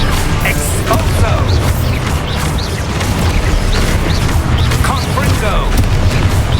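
An Expulso spell exploding in the video game Hogwarts Legacy, a burst of booming blasts and debris within busy, continuous combat noise, with a character's voice mixed in.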